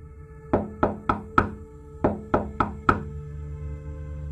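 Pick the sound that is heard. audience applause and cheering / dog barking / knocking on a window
knocking on a window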